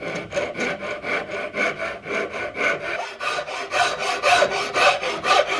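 Wooden stock for a CVA Hawken muzzleloader rifle being shaped by hand with a rasp or file, a loud, steady rhythm of rough scraping strokes, about two per second, close up with no talking.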